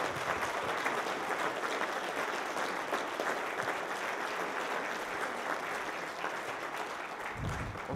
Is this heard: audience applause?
yes